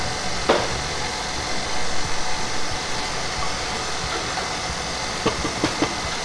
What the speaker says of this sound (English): Okay, we're going to use a mixer.